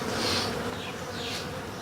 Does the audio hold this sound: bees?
yes